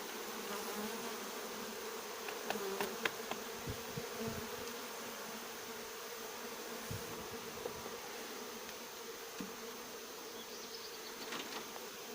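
A steady, dense buzzing of many honey bees fills the whole stretch, constant and moderately loud with no voices.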